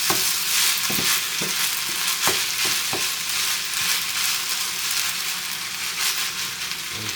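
Asparagus and potatoes fry and brown in a pot with a steady, loud sizzle close by, broken by several clinking, scraping stirs early on.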